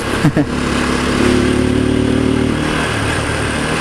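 A Rusi Gamma 200 motorcycle rides along with a steady mid-pitched engine drone, close and loud, its tone holding fairly even for a few seconds with a faint brief thump near the start.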